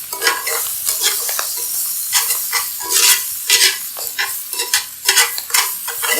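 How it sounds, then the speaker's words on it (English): Garlic and spinach fry on a hot plate while a spoon keeps pushing them around the pan, loud close sizzling with repeated scraping and clattering strokes. "We're just going to keep moving this around, making sure that the garlic doesn't burn to the bottom of the pan"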